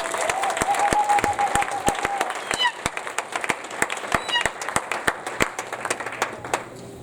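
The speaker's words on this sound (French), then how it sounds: "On peut les applaudir, n'est-ce pas?" Congregation applauding a wedding couple at a church ceremony, steady crowd clapping throughout with sharp individual claps standing out, a sustained tone and brief voices under it.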